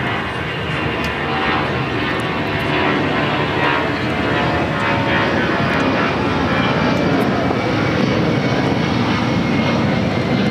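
Delta Boeing 757 airliner at LAX, a steady broadband engine roar that stays loud and close for the whole stretch, without speech.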